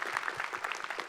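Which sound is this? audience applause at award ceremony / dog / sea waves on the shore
audience applause at award ceremony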